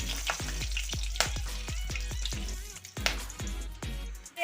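Bay leaf, two dried red chillies, cinnamon, cardamom and cloves fry in hot oil for a village-style desi chicken curry, a close crackling sizzle with a string of sharp pops and spits over a constant low hum.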